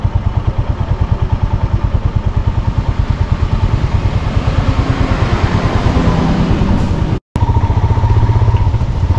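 A motorcycle rides slowly over a rough mountain road near Keylong, blocked by landslide rubble and debris, its engine thumping in a loud, rapid, steady pulse close up, with clattering over the rocks and a brief dropout near the end.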